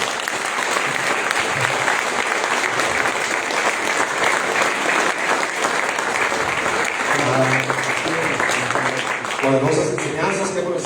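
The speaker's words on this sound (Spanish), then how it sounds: "Denle un fuerte aplauso." Loud, sustained applause from a crowd at a national rally in Ecuador fills the whole stretch, with a voice breaking through near the end.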